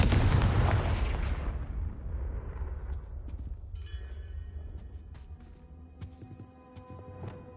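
Confringo blasting spell cast in Hogwarts Legacy: a loud fiery explosion bursts at the start, then a long rumbling decay scattered with crackling debris and ringing metallic tinkles that fade out.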